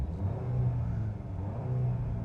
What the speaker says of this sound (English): so it starts up with a traditional starter noise